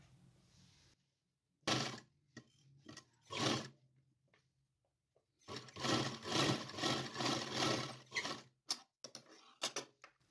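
A sewing machine stitches a small winter night dress for a Laddu Gopal idol. It runs in short bursts of rhythmic mechanical ticking and then a longer run of several seconds, with quiet pauses between, heard close and alone.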